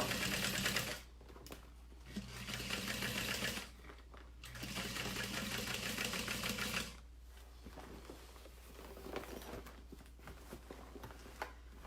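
Sewing machine top stitching the exterior of a saddle bag, with two long runs of fast, even mechanical chatter broken by brief pauses, then quieter handling clicks.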